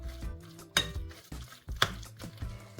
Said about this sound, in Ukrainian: Вимішати потрібно дуже ретельно